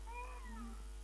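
A cat meows in a classic Hindi film, one drawn-out, wavering meow that slides downward, heard clearly over a quiet steady hum with no talk.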